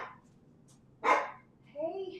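Household dogs bark, with a single sharp bark in the middle set between quieter sounds, while a person speaks briefly near the end.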